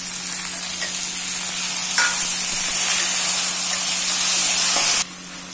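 Cabbage, green chilli and tomato sizzle and fry in a pan with a steady loud hiss, which swells slightly midway before cutting off abruptly near the end.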